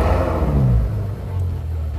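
A Ferrari F12 Berlinetta engine firing up after the start button, a loud close rumbling roar that swells and then settles into a steady deep idle.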